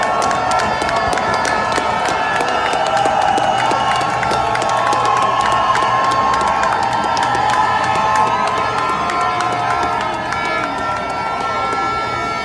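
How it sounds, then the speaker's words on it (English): A large crowd of protesters against President Trump roars in a long, sustained cheer near Trafalgar Square, with shouts and whoops layered over the steady din and voices mixed throughout. "Listen to that cheer."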